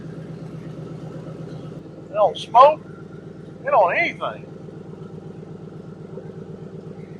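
An old low-mileage police car engine, rescued from a junkyard, idles with a steady low pulsing rumble, a faint rattle in its rhythm, as someone speaks a few short phrases over it.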